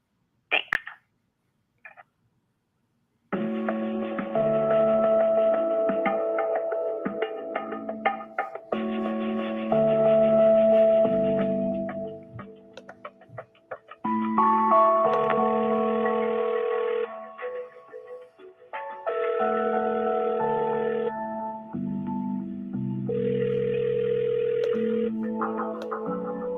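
Tinny, narrowband telephone hold music plays while a cold caller waits on the line, a looping melody running steadily for more than twenty seconds after a few brief clicks, with no talking.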